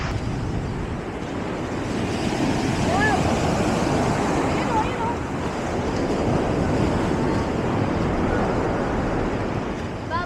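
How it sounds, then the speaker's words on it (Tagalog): Strong ocean surf breaks continuously on a beach at Cabangan, Zambales, a loud steady roar of churning water with wind buffeting the microphone for the whole stretch. "lakas ng alon."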